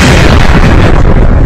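A loud, dense blast from a drone attack in Iran fills the short moment, a heavy rumbling boom that fades slightly toward the end, with no voices.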